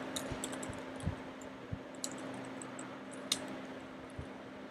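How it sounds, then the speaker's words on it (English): Someone types a command on a computer keyboard. Faint, scattered key clicks come at an uneven pace over a low steady hum, with no talking. "So open your terminal and type pip 3 install"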